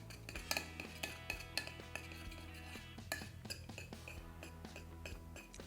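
A spoon stirs honey and oil together in a bowl, making quick, repeated metallic clinks and scrapes against the sides in an uneven rhythm, close and fairly quiet with no voices.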